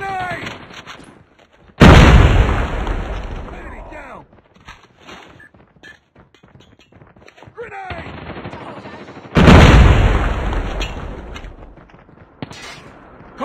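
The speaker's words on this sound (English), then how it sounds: "Watch out! Grenade!" A grenade explodes in the video game Call of Duty with two loud booming blasts several seconds apart, each decaying into a rumble, amid scattered gunfire.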